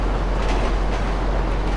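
A train rolling in GTA V, a steady loud rumbling roar of wheels on track heard close up throughout, with no let-up.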